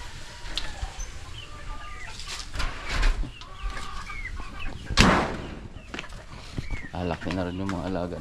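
Chickens cluck and squawk intermittently nearby, while people talk over them and a louder bird call breaks through near the end.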